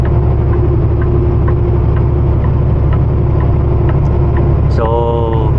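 A small car's engine drones steadily at low revs as it climbs an uphill road at about 22 km/h, with the pitch sagging slightly while the driver talks over it throughout.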